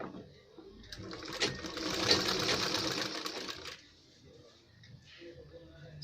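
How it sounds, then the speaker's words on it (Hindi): Close, steady whir of a sewing machine stitching across a ladies' kurta placket for a few seconds, then easing off, with light handling noise around it. "अब इसके ऊपर हम लब की सिलाई लगाएंगे यहाँ पर"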